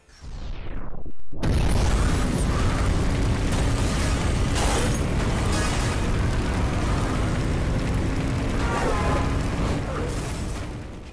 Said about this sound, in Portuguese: Você pulava em rampas no meio das rodovias, batendo em carros, carreta e fazia a maior explosão.